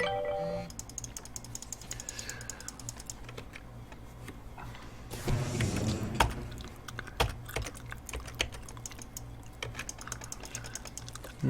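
Rapid keyboard clicking during play of the video game Shroud of the Avatar: bursts of sharp, close key taps, sometimes clustered and sometimes spaced, over a low steady background hum, with no speech.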